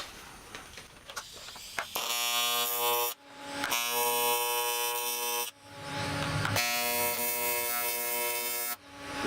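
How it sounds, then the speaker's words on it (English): A TIG welder joins metal plates for a custom intercooler on a Mitsubishi Delica, giving a steady, harmonic electric buzz in three long bursts separated by short pauses, after a quiet start. "You can probably hear the TIG in the background."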